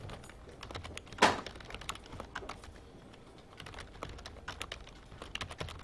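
Code is typed on a computer keyboard in irregular bursts of sharp key clicks, with one louder clack early on, heard close and alone.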